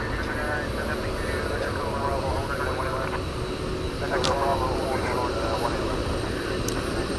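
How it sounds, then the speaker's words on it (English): A British Airways Airbus A380 takes off at night from Dallas Fort Worth airport, its jet engines making a steady, loud roar that holds throughout. "so we can see the British Airways Super Speedbird takeoff"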